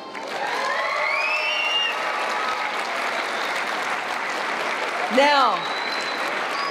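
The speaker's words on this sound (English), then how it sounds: "those of you from Houston, could I hear some applause?" Audience applause fills a hall at an awards gala for a Turkish culture and language olympiad, steady clapping throughout with cheering, a brief louder whoop near the end, and a voice speaking over the start.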